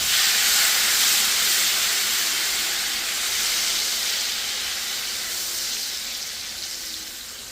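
Tomatoes sizzle with olive oil and garlic in a hot pan for spaghetti, a loud, steady hissing fry that eases slightly over several seconds with no talking.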